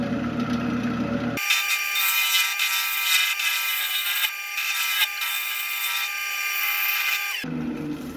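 A negative rake scraper drawn across a large piece of elm, giving a close, harsh, sustained scraping rasp for several seconds before it stops abruptly.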